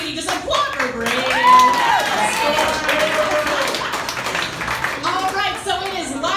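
Comedy club crowd at a brewery show claps and cheers in a steady burst of applause, with a performer's voice carrying over it.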